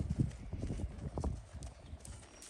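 A horse's hooves clip-clop on the ground during a young horse's second ride, a steady series of close, moderately loud footfalls with no talk over them.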